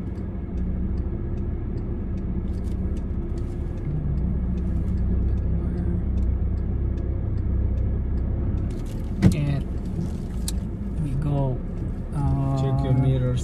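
Car idling and slowly reversing out of a parking spot during a road test in Burlington, a steady low engine hum with faint ticking of the turn signal, under a person talking and a brief knock midway.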